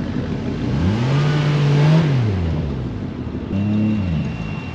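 At an outdoor car meet, a Toyota Supra's engine revs loudly nearby, rising to a held peak and falling away, followed by a second shorter blip.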